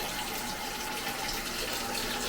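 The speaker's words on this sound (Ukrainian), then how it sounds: "Кран включай." Water running from a tap into a sink, a steady, soft hiss that holds unbroken from start to finish, with no voices.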